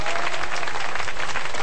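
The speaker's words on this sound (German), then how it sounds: "Applaus für die Rohrbacher Vereine" A carnival crowd applauds the local Rohrbach clubs, a brief, loud, dense burst of many people clapping together, heard close and continuous.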